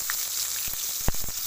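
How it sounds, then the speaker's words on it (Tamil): Sliced onion and green chili fry in hot oil for a Tamil egg keema, a steady close sizzle with a few soft stirring knocks and clatters near the end. "இப்போ பச்சை மிளகாய் சேர்த்துக்கலாம்."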